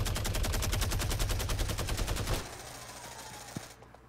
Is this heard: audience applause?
no